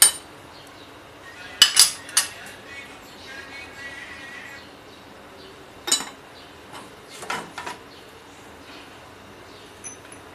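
A spoon stirring a homemade immunity health drink mixture, sparse metallic clinks and scraping bursts against a container separated by quiet gaps, close and fairly crisp.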